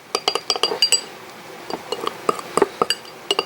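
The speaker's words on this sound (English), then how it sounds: "Alright, so stir that up." A spoon clinks repeatedly against a glass bowl while homemade spicy mustard sauce is stirred, sharp irregular taps in quick bursts with short pauses, close and clear with no talking.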